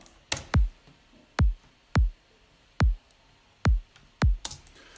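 Six punchy kick drum thumps with a short clicky attack and a deep, falling boom, played alone at an uneven pace.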